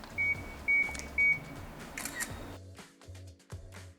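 A Kandao QooCam 3 360 camera counts down its two-second self-timer with three short evenly spaced beeps, then captures a 62-megapixel photo with a few soft clicks, close by in a quiet room.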